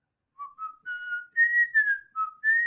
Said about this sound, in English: That was a good whistle too.